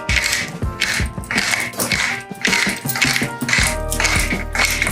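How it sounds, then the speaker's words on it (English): A pepper mill grinds black pepper in a kitchen, with repeated crunchy, rhythmic twisting bursts close up and loud. "So here's my pepper mill."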